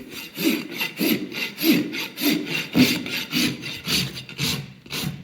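Steady rhythmic rasp strokes filing a horse's hoof during trimming, about ten back-and-forth passes in five seconds, close and fairly loud with no talking.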